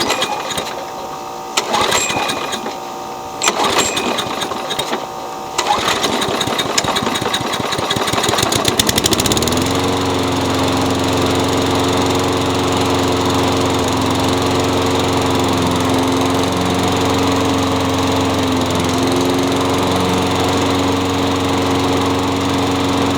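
A Craftsman self-propelled mower with a ready-start engine and freshly cleaned carburetor cranks with rattly pulls for several seconds, then catches and settles into a loud, steady droning idle close by.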